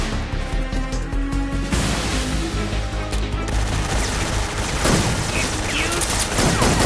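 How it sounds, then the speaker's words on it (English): A Tommy gun firing in Metal Gear Solid 3 Snake Eater: dense, continuous gunfire layered over loud game music and ambience, with crackling bursts throughout. "Tommy gun!"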